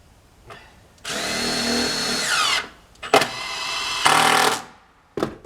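Power drill driving screws into a wooden box, heard as close, loud bursts of whirring: one long drive, then shorter pulses and a second run, each ending as the motor winds down, with brief clicks between.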